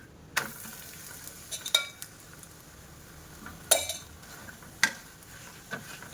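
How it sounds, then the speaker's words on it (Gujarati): Carrot paratha roasting in ghee on a pan over medium-high flame: a soft sizzle underneath, broken by several sharp clinks and scrapes of a spatula against the pan at irregular intervals, with no speech. "આવી રીતના હું અહીં ઘીથી જ પરાઠા શેકી રહી છું."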